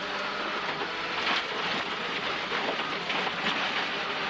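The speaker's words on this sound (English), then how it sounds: "parece que aparece la lluvia en un momento" Dense, steady hiss of heavy rain in a racing video game, loud and continuous without pause.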